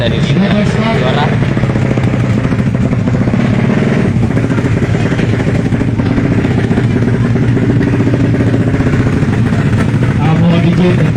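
A 155 cc drag bike motorcycle engine revving loud and close at a race event, a continuous rough roar with people talking over it throughout.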